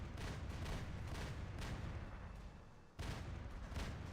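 Prototype heavy machine gun fire in the War Robots mech combat game, test server 2.8.0: dense, continuous rattling bursts with booming impacts, loud throughout, with a brief dip just before three seconds before firing resumes.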